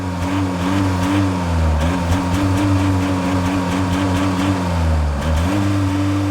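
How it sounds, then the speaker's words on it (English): A 2021 Volvo XC40 D3's 2-liter diesel engine drones loudly and steadily, revving up briefly twice with a rising then settling pitch. "This is the 2-liter diesel engine. So now, let's have a listen."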